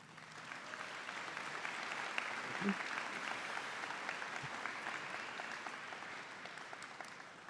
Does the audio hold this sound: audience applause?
yes